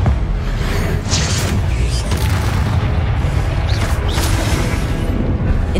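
A Confringo blasting spell explodes in a dense, loud roaring boom that stays sustained, with sharper crackling bursts over the top.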